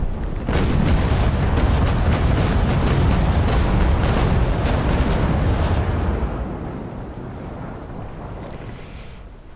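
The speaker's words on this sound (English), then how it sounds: "Very nice broadside." A sailing warship fires a cannon broadside in the naval combat game Naval Action, a loud, rumbling barrage of overlapping booms rolling for several seconds before fading into a lingering low roar.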